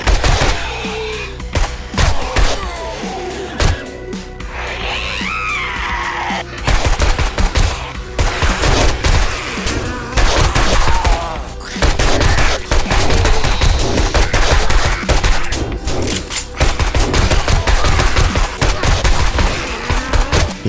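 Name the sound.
machine gun firing in video game 7 Days to Die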